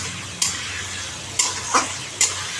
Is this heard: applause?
no